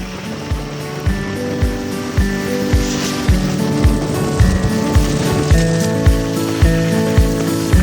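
Heavy rain during a motorbike trip in Manali, a steady dense hiss with regular low thumps and a faint tonal hum running underneath, no talk.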